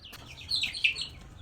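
Native chicken chicks kept under an upturned fishing basket give a short burst of high, thin peeping chirps, close and fairly soft over a quiet background.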